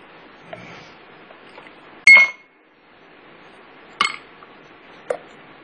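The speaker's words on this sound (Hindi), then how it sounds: "एक एक स्लाइस हम इसमें बर्फ की डालेंगे और ये जूस डालेंगे।" Ice slices dropped into milk glasses while serving papaya juice, giving three sharp glassy clinks spaced a couple of seconds apart against a quiet kitchen background.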